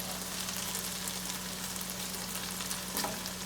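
Chicken browning in hot oil in a pan, a dense, continuous close sizzle with crackling oil spatters and a low steady hum underneath.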